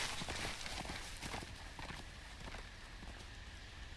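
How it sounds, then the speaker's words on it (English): Horse hooves clip-clop in a video game as the animal runs off, a quick uneven patter of hoofbeats over a dense background of game ambience. "Don't run away, horsey!"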